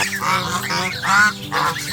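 Several loud honks repeat from a noisy flock of gray and white Chinese geese, with overlapping calls close by and no talking.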